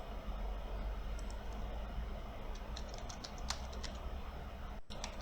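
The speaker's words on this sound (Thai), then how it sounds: "คราวนี้ผมลองพิมพ์ไปมั่วๆเลยนะครับ" Random keys typed on a computer keyboard during a Siemens SIMATIC IOT2040 setup, light scattered clicks faint under a steady background hum.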